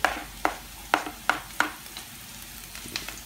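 Garlic and onion frying in a pan for chicken liver adobo: a steady hiss with several sharp stirring clacks at a regular pace, close up and with no talk.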